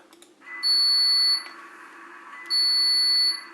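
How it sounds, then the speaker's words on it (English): Two long, shrill electronic buzzes from a model train's guard buzzer, each about a second long and separated by a short pause, sounding alone over faint background hum. "I've got F7 as a guard buzzer."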